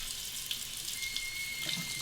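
A bathroom tap runs steadily while a razor is rinsed after shaving with Ivory soap, a constant faint hiss of water into the sink with a few small splashes.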